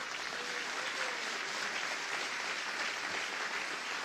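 Congregation applause during a church sermon, a continuous even roar of many hands clapping at steady loudness from start to finish, with no voices standing out.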